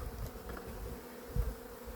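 Honeybees buzzing around an open beehive at season's end, a close, continuous droning hum with no voices.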